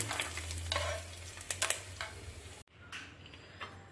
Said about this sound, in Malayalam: നമ്മളിപ്പോൾ ഇത് ഇളക്കി കൊടുക്കുന്നു.